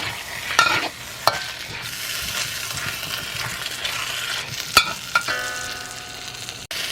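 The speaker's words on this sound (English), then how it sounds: "Stir fry this until it's no longer pink." Pork stir-frying in a pan, a steady sizzle with scraping stirs and a few sharp metallic clinks of utensil against the pan, close and without talk.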